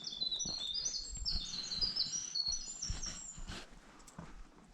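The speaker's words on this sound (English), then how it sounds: "I believe that's coming from a warbler of some sort." Warbler song in a wild wooded park on a hiking trail: a high, thin run of quick chirping notes repeats several times, fairly clear above soft footsteps and rustling.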